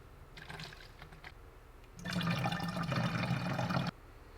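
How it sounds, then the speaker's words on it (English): Distilled water pours from a container into a 32 ounce spray bottle, a steady close rushing fill that swells for about two seconds and then stops, with quieter trickling beforehand. "we're gonna fill the rest with distilled water"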